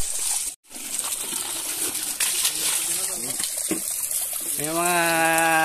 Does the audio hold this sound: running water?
yes